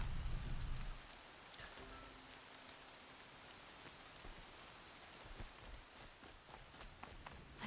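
Heavy rain falls steadily in the video game Horizon Zero Dawn, a soft continuous hiss lasting throughout, with a brief louder low rumble at the very start.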